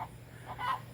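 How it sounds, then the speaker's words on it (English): Laying hens cackle faintly on a farm, a few soft, scattered clucks and calls against a low background hum. "layers are cackling"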